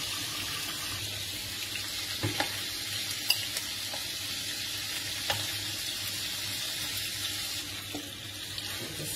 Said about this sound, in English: As you can see, the chutney is cooking nicely.